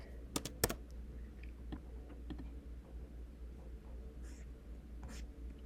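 Someone types a quiz name on a computer keyboard in a few soft, scattered clicks, quiet and close over a low steady hum, with a brief cluster of sharper taps at the start.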